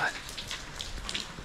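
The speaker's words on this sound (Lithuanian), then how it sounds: "Tus lyja" Light rain pattering steadily on surfaces, a soft continuous hiss with scattered drops, faint talk in the background.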